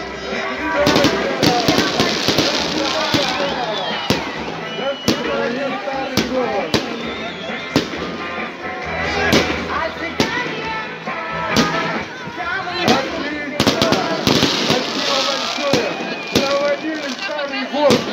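Repeated sharp New Year's fireworks bangs crackle irregularly over a noisy crowd with people talking in Yekaterinburg, loud and continuous throughout.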